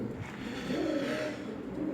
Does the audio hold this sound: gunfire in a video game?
no